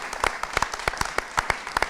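A room of listeners applauds a discussion panel at a live talk event, brisk uneven hand claps from a modest crowd, close and fairly loud, with no voices on top.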